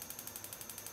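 A stove burner knob is turned, giving a rapid, even series of close mechanical clicks like an igniter ticking, about a dozen in one second.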